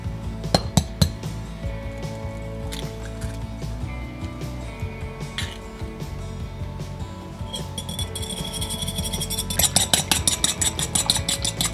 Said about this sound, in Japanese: まずは卵を溶いておきたいと思います